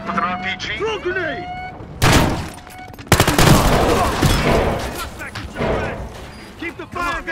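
Gunfire and a grenade blast sound during a Battlefield Hardline bank heist match. There are sharp loud bursts and rattling shots, with shouted voices mixed in.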